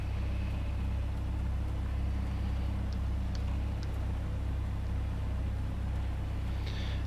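A simulated Piper Cherokee engine idles at 1,000 RPM, a continuous deep droning hum that stays even and moderately loud throughout, with faint clicks above it.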